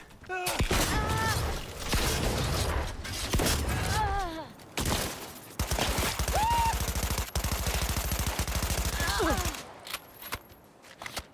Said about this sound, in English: That shotgun takes way too long to reload.